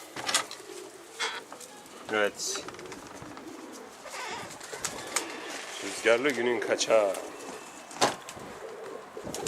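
Pigeons in a coop coo in soft, repeated rolling bursts, close by and scattered across the clip, while someone talks quietly over them.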